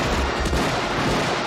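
Heavy gunfire from the action film Hard Target, a loud, dense burst of booming shots that fills the whole moment with no talking over it.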